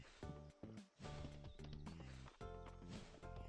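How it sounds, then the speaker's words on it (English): A magic horse appears on call in a farming video game, with rhythmic hoofbeat clip-clops and a whinny over bright, layered game music, fairly loud and close. "It's a magic horse, so it comes and goes whenever we want it to."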